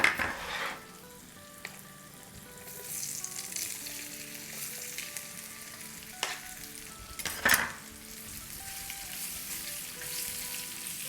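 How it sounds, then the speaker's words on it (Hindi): Potatoes sautéed in a pan with cumin and turmeric, giving a soft, steady sizzle with a few brief louder stirring bursts, close but quiet and without speech. "बस ज़रा सा हम सौटे करेंगे, और अब इसमें हम ये अपने आलू डाल देंगे"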